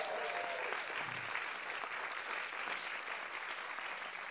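Large crowd applauding at a live televised mayoral debate in San Antonio, a steady wash of clapping from a big audience, moderately distant and even throughout.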